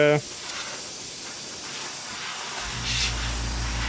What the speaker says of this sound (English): We'll see what kind of air pressure we have coming out of here.